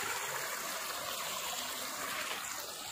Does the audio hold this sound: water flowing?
yes